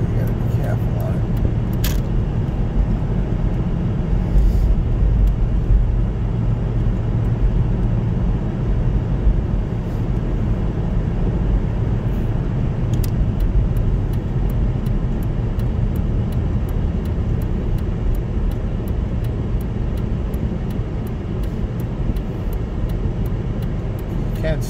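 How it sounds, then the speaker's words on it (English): Steady, loud rumbling road noise of car tires rolling while cruising, a constant broadband drone throughout with a few faint clicks on top. "The tires are rolling. It's actually cruising."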